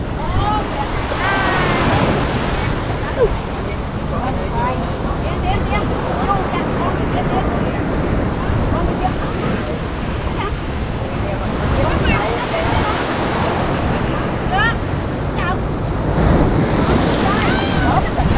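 Rough sea surf breaks steadily on the beach at Nhơn Hải, a constant loud roar of waves mixed with heavy wind buffeting the microphone, with people talking faintly underneath.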